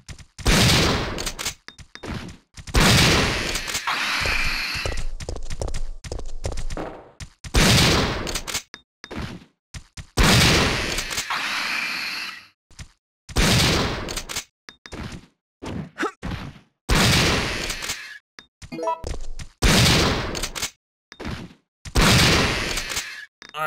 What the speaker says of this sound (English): now we gotta test that enhanced ammo on some Drain Deimos